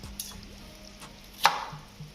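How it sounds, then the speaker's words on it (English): A knife cuts pumpkin into bite-size pieces on a board, soft scrapes building to one sharp, clear chop, close and quiet. "Just gonna cut it up in some bite size."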